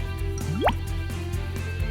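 Water is poured into an Awesome Blossoms toy doll set, giving a single quick rising plop against a quiet, faintly humming room.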